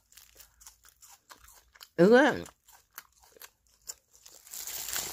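A crunchy bite and chew of onion stem kimchi mixed with wild garlic lands once, loud and close, between bits of quiet talk, followed by softer rustling noise.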